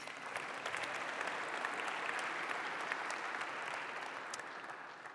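A church congregation applauds together, a thick, even wash of many hands clapping that holds steady throughout, soft and somewhat distant.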